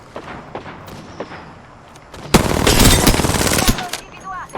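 Automatic gunfire in the battle royale video game Apex Legends, a dense sustained burst of rapid shots over about two seconds after scattered quieter game sounds, loud and close, with no talking.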